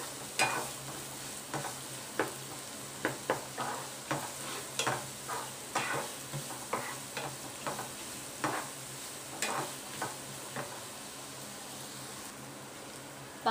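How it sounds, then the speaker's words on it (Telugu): Onions sizzle in a pan for omelet curry, frying toward brown, with a steady soft crackle broken by about a dozen sharp spatula stirs and scrapes at a fairly even pace. "ఇది కొంచెం బ్రౌన్ కలర్లో వచ్చేంత వరకు వేయించుకుందాం"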